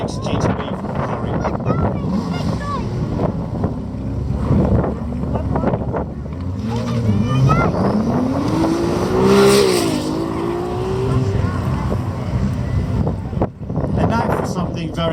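A Ferrari 296 GTB supercar accelerates up a hill climb course, its engine note rising in pitch as it passes, with wind buffeting the microphone and a voice talking over it.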